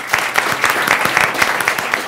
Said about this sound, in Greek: Ο Πάνος και ο Κώστας, ένα χειροκρότημα.